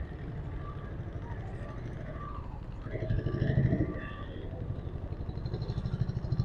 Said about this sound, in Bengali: এখানে নৌকাটা ভিড়বে